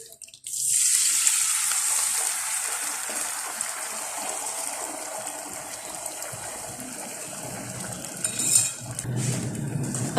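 Soaked semolina hitting a hot pan for sweet makhandi halwa, a loud steady sizzle and hiss that starts abruptly and carries on evenly close by, swelling briefly near the end as the mixture is stirred.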